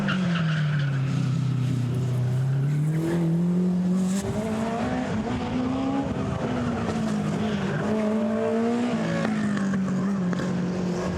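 Lightweight sports racing car climbing at the 2016 Chateau Impney Hillclimb, engine note held loud and close, revving up and down through gear changes with tyre squeal, no voices.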